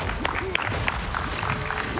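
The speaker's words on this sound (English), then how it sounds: "A round of applause for PCF, please, from the audience." Scattered clapping from a speedrun event audience at Awesome Games Done Quick 2026, light and uneven, with a few sharper claps standing out over a murmuring background.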